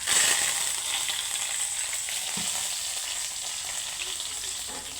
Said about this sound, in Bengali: কারি পাতাটা ভেজে নিয়েছি